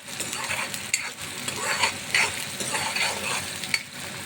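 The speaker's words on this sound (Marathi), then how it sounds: "कांदा पण जो आहे तो छान लालसर रंग येईपर्यंत परतून घ्यायचा आहे।" Onion browns on a high flame in a pan for a garlic dal fry, giving a dense continuous sizzle close by, with stirring and faint utensil clinks but no voices.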